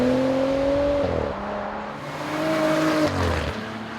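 Inside a 2014 Maserati Ghibli S saloon, the petrol engine drones and climbs in pitch through rising revs, dips at a gearchange, then pulls again, steady and fairly loud within the cabin.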